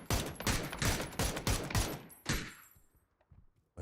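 Video game gunfire in PUBG during an esports match: several rapid bursts of automatic shots in quick succession, then a few fainter isolated shots as it tapers off.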